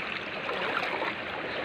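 Rushing water from a falls fills the scene, a steady broadband wash that stays constant and fairly close with no clear voices over it.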